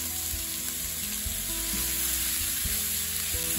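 Peppers and vegetables sizzle steadily in butter in a skillet, a loud, continuous frying crackle with small pops and stirring sounds, no voices.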